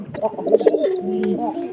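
Pigeons coo in a loft where newly paired birds have laid eggs, a close series of soft throaty rolling coos with faint chirps, over about two seconds.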